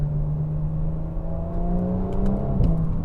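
An Audi S4 Avant petrol engine hums steadily at low revs, with a faint rise in pitch as it picks up a little, heard from inside the car.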